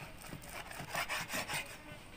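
Soft rhythmic rubbing and sawing strokes of a knife cutting through boiled beef being prepared for rendang, several quiet back-and-forth passes with no one speaking.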